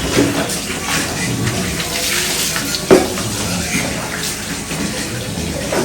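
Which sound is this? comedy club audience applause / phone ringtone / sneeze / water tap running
water tap running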